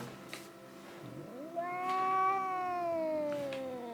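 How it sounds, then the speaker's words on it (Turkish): A single long, drawn-out cat meow in Minecraft rises and then slowly falls, clear and close against a quiet background. "Kedi sesleri geliyor lan."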